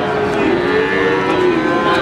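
Cattle at a livestock sale in Pati give a loud, drawn-out moo, close by, over a dense background of crowd noise.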